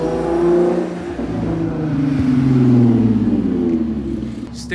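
An Audi B8.5 S4 drives in on a backroad, its engine rumbling and revving loudly and close by with a rising, sustained roar.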